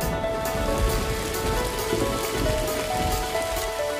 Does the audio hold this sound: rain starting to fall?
yes